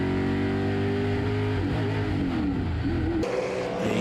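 A Chevrolet Camaro sports sedan racing down the straight at Sydney Motorsport Park with a fuel pickup problem, its engine droning loud and steady with a wavering, uneven pitch before a sudden drop near the end.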